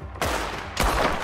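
Gunfire in the video game Red Dead Redemption 2, two sharp shots with rolling tails about half a second apart, fairly close.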